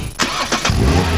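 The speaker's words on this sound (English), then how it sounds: "This is the sound of a car engine." A car engine cranks with a couple of short starter whirs, then catches and settles into a loud, close, steady idle rumble.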